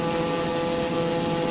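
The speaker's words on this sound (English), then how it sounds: "the engine is really loud" A TBM 930 single-engine turboprop in Microsoft Flight Simulator 2020 drones steadily in flight, a loud, constant engine hum and whine with no talk over it.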